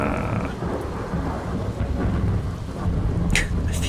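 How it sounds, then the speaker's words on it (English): Rain and rolling thunder in the horror video game Rise of Insanity, a heavy steady downpour with low rumbling throughout and a brief higher sound near the end. "It's raining."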